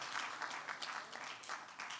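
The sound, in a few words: audience applause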